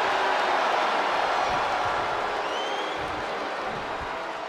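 Arena crowd roaring and applauding in the wrestling video game WWE 2K23 during a women's submission match, a steady loud wash of cheering that fades slightly, with no clear talk.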